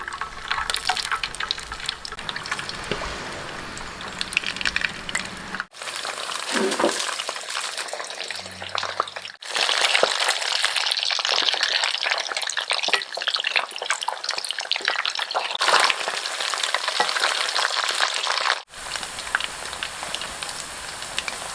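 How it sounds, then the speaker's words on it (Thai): Sun-dried salmon pieces deep-frying in plenty of hot oil, giving a steady, dense crackling sizzle close by, broken by brief gaps between stretches. "น้ำมันร้อนแล้วก็ทอดเลย ทอดทีละชิ้น"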